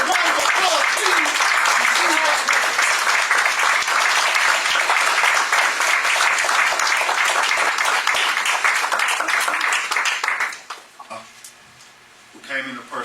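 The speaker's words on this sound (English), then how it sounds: "I'd like to bring before you our illustrious student minister Dr. Wesley Muhammad with a round of applause, please." An audience breaks into strong, sustained applause welcoming a speaker, loud and continuous for about ten seconds before fading out, with a few voices and a brief musical tone near the end.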